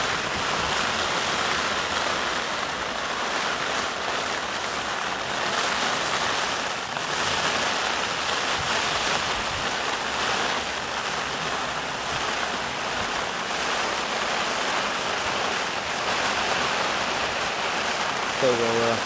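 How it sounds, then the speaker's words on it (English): Gale-force wind and pouring rain lash a gravel pit fishing lake, a loud, constant broadband roar of gusts and rain with no break across the whole stretch. "It's absolutely blowing a gale down here right now."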